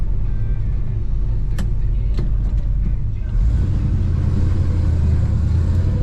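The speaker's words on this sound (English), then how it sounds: "Really good running car. Started right up," A red 1970 Chevrolet Chevelle with cowl induction hood and 4-speed manual rumbles at a low, steady idle, a thick continuous drone with a few sharp clicks early on.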